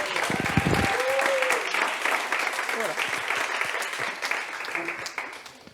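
Applause from an audience welcoming a speaker to a talk on cohabitation and group housing, steady and fairly loud throughout, with a few voices murmuring underneath.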